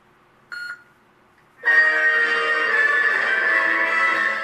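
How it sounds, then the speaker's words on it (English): A short electronic beep sounds once from a SaberForge Disciple lightsaber's NBv4 sound board, then a sustained humming electronic tone with steady harmonics starts and holds, loud and close, with no talking. "you hold down the switch until the second beep"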